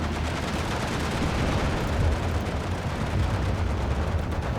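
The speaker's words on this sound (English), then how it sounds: "Panzerwerfer's firing." A German Panzerwerfer rocket launcher fires in the World War II strategy game Steel Division 2, a dense, continuous roar of salvo blasts and rumbling battle noise with no pauses.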